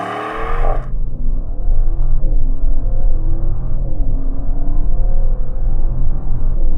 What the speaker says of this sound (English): So we're going to do a launch control, see what it'll do 0 to 60